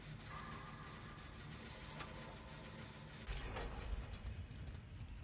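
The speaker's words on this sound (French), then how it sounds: "Peut-être même un autre moteur là." A steady mid-pitched engine idles throughout in the Dead by Daylight horror game, a constant mechanical drone with a brief louder surge near the end, no voices.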